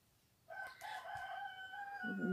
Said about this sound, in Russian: Петухи у соседей кукарекают.